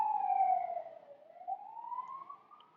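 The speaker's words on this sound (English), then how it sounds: "I'm waiting for that siren to pass" A siren wails in a long slow falling then rising tone, moderately distant, fading as it passes, with no talking.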